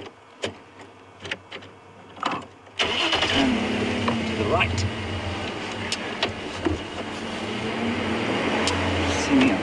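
A safari vehicle's engine cranks and catches, then settles into a steady running rumble that builds slightly; a voice speaks briefly over clicks before it starts.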